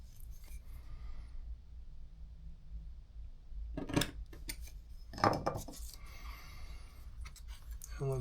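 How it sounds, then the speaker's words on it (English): Leather is trimmed for a knife sheath, with two sharp bursts of cutting or snipping separated by quieter handling noise, close and faint, with no talk. "So we can trim this down now."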